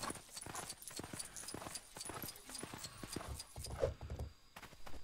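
Hooves clip-clopping at a steady walking pace, in-game cow footsteps from LEGO Jurassic World, with a few louder thuds near the end and a voice talking faintly underneath.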